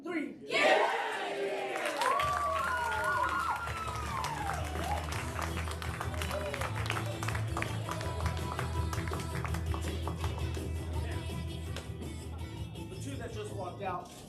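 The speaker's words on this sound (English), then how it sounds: "I want everybody to shout, "Get out of here," followed by a loud round of applause." A studio audience yells a shouted phrase together in a burst of overlapping voices, then breaks into a sustained, loud round of clapping and cheering that carries on steadily to the end.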